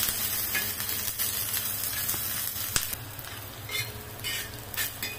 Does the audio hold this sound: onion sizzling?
yes